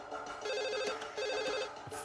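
A telephone bell rings in quick repeated trills, two clear bursts of ringing against a quiet room, close and moderately loud.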